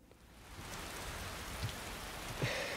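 Rain in the Skyrim video game, a soft, steady patter of drops on surfaces, faint and continuous with a couple of slightly louder drips.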